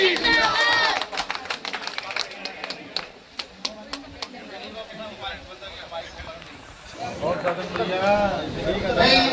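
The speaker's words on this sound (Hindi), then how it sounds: "एक बार तालियां भाई" A crowd claps at a BJP political rally in a Haryana village, with bursts of rhythmic clapping rising and falling while someone talks loudly over the noise and other voices call out.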